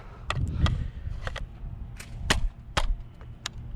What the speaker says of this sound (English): it's just going to be 5 shots in succession